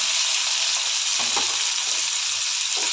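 Onion, tomato, crushed garlic and curry leaves sauté in hot oil with mustard seeds and cumin, a steady close sizzle filling the whole stretch with brief stirring scrapes, no voices.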